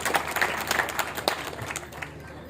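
An audience claps at a crime-awareness community program, with distinct individual claps merging into moderate applause that thins and fades toward the end.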